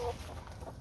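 Chickens in a backyard coop freshly bedded with wood chips, giving soft close clucks and short murmuring calls that run continuously through the moment, with a brief louder call at the start and no talking.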